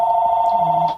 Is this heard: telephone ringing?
yes